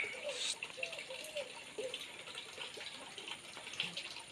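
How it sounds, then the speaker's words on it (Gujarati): Spring water runs steadily from the rock at the Shiv Zari hillside temple near Dahod, a soft, continuous trickling gush heard alone at low volume. "આ જે પાણી આવે છે તે"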